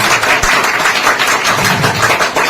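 An audience applauds together at a school gathering, a dense steady wash of clapping that carries on evenly through the whole stretch without voices.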